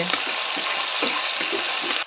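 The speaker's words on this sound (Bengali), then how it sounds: "মা দিয়ে দেবে কুচানো পেঁয়াজ। পেঁয়াজ দেওয়া হয়ে গেল। এখন মা হালকা নেড়ে ছেড়ে নেবে পেঁয়াজগুলোকে।" Chopped onions fry in hot oil in a wok, a loud continuous sizzle close by with soft rhythmic scraping as they are stirred, ending abruptly near the end.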